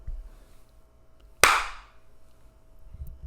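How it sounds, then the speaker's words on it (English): A single sharp hand clap marks the start of an audio recording for editing, standing alone in a quiet room with a short decay. "Okay, clap now, and then maybe I can edit it"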